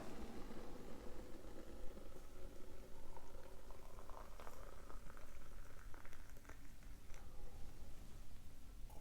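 Just-boiled water is poured for Earl Grey tea with a soft, continuous bubbling trickle. It is faint and close, with a few light clinks and no talking.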